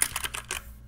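Keys pressed on a DIERYA gaming keyboard, a quick run of close, crisp clicks that taper off within a second, with no voices.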